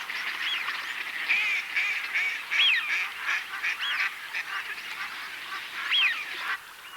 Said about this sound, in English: Hawaiian nei-nei geese allow their young to dabble at the water's edge.